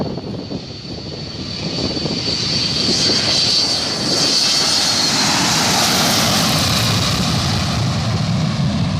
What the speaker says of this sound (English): This was a test at the Airbus factory, simulating an engine failure.